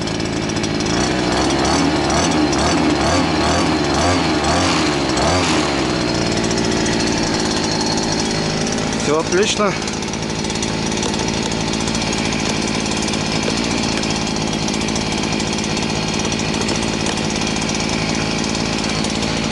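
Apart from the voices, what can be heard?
Redverg gas trimmer engine running in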